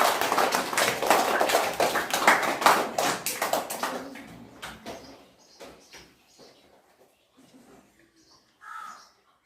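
Children clap their hands in a short burst of quick, sharp claps up close, which thin out to a few scattered claps before near silence, with a faint voice near the end.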